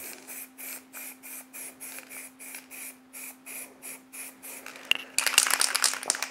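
A spray paint can hisses in short, evenly spaced bursts while painting shutters, close and steady, then a louder, rougher stretch of spraying near the end.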